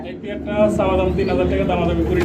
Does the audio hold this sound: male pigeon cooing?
yes